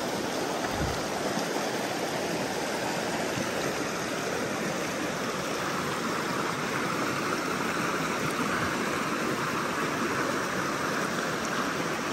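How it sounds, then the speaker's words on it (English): A small waterfall on a creek on a morning outdoors produces a steady, unbroken rush of falling water, close and even throughout with no voices. "there's a little waterfall there too"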